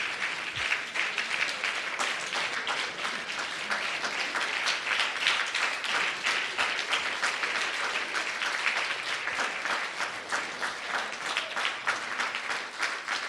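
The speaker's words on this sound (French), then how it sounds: "begin to clap for your parents." Young people at a bilingual church gathering clap for their parents in a long, lively round of close, crisp hand claps, loud and continuous with individual claps audible in the mass.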